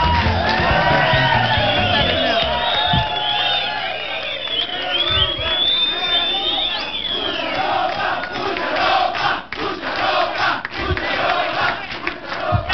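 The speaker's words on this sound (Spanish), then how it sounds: "Un aplauso para Ariana," A television studio audience cheers, whoops and shouts loudly for a guest walking on, a dense crowd roar that stays strong across the whole stretch and thins slightly near the end.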